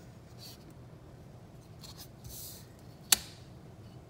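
A pencil drawing lines freehand on paper, faint soft scratchy strokes in short bursts, ending with one sharp tap of the tip against the page.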